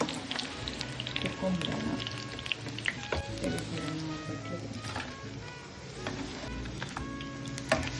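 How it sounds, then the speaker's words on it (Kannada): Raw jackfruit fries crackle and sizzle steadily in hot oil, a continuous bubbling fry heard close up, with a person talking briefly over it. "ಫ್ರೈ ಆಗ್ತಾ ಇದೆ"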